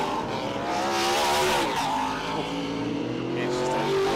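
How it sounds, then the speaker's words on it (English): A Ford Mustang V8 race car at a Winton circuit race meeting roars loudly and steadily, its pitch sweeping up and down as it passes, with other engine noise around it. "It's just something about a screaming V8."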